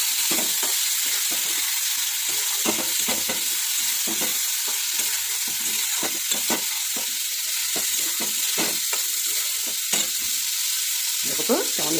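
Leaves hit hot oil for an egg curry, producing a loud, continuous hissing sizzle with frequent crackles and the clatter of stirring throughout.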